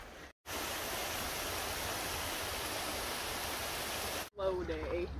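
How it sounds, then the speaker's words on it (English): A waterfall near the Appalachian Trail gives a steady, dense roar that fills the clip alone, then cuts off abruptly; a voice is briefly heard at the end. "so I'm gonna go see the cool waterfall"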